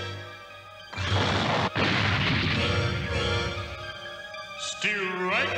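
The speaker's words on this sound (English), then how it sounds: "As soon as we fire our proton beams at him" Cartoon proton beam blasts from The Real Ghostbusters, a sudden loud roaring burst that sustains for several seconds, then fades into rising, warbling electronic zaps.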